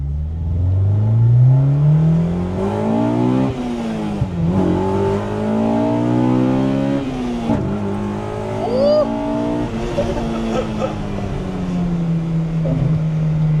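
A K-swapped Honda EK1 fitted with individual throttle bodies revs repeatedly, its engine note climbing and falling in strong, close sweeps with a sharp intake edge, while someone talks at points.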